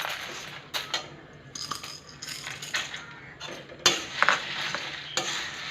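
Chana dal and spices dry-roast in a pan on low heat for sambar powder, with a spoon scraping and stirring. Hard dry grains rattle and clink against the metal in irregular bursts, close up.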